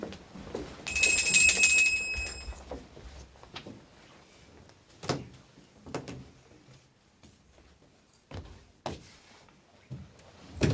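A hand bell is shaken in a short bright burst of ringing near the start of a stage play, followed by scattered knocks and clunks with quiet gaps between them.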